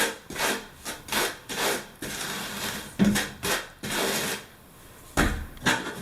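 A trowel scrapes thinset mortar off the back of a ridged tile in repeated rough rubbing strokes, about eight passes with short pauses between them, close and fairly loud with no voices.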